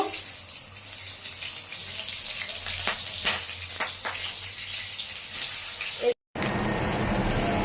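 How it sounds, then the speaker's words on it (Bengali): Whole cumin seeds hit hot oil in a pan, giving a steady, close broadband sizzle that runs on with a few soft clatters before a brief dropout near the end. "এখানে তেলটা গরম হচ্ছে আর আমি একটু গোটা জিরে দিয়ে দেবো"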